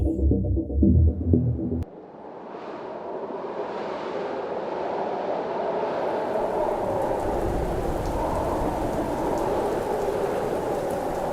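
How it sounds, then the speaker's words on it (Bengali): Heavy rain pours down with a steady, dense hiss after a brief rumbling thunder-like burst at the start. The downpour stays loud and continuous throughout, with no voices. "বাইরের আকাশ ভরা অন্ধকারকে ভিজিয়ে হুড় হুড় করে বৃষ্টি পড়ছে আর বো বো করে ঝোড়ো হাওয়া ছুটছে"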